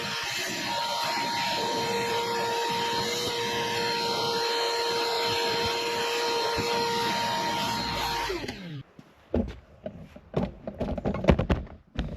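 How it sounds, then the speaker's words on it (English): A vacuum cleaner runs steadily with a constant whine in the engine bay of a 1976 Chevette, then shuts off and winds down, followed by scattered clunks and knocks. "I'd rather just get everything vacuumed up in the engine bay"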